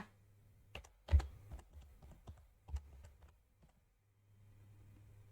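Keys clatter on a computer keyboard as an email message is typed, a close, sparse run of taps in small bursts with quiet pauses between.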